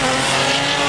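A drift car at a Drift Masters qualifying round, engine roaring steadily with tire squeal mixed in, loud and continuous for about a second, no voices.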